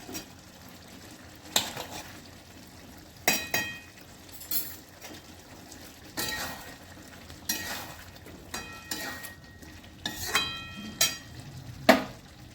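Ghee sizzles gently while a spoon stirs and clinks against the pan at a steady, unhurried pace, the sharp metallic taps recurring every second or so over a faint frying hiss.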